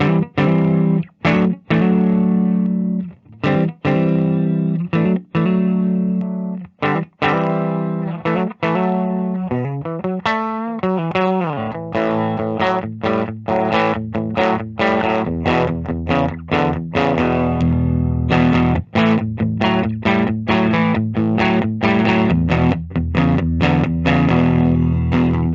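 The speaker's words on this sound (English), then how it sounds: "Very bright sounding guitar." A 1991 Gibson Custom Shop Firebird V electric guitar played through distortion and effects, loud and close, with choppy muted chugs and stabs, a sliding bend midway, then sustained bright chords and rhythmic riffing, no talk.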